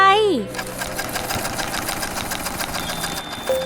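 A sewing machine runs steadily, stitching fabric for a stuffed Mr. Meeseeks doll, with a close, continuous mechanical whir and rapid needle chatter after a brief tonal sound at the start.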